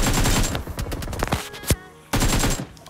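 Automatic gunfire in the battle royale game BGMI comes in two rapid, loud bursts at the start and end, separated by a quieter stretch with a few single shots.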